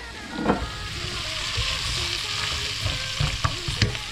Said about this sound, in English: let's add in our ingredients of carrot and zucchini. Give it a stir.